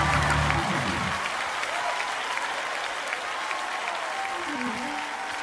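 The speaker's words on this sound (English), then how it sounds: "Come on, clap your hands." A church congregation claps hands together in a dense, steady wash of applause that fills the room, continuing loudly throughout with a voice faintly heard beneath the clapping.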